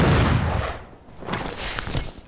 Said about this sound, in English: Can I still shoot this guy?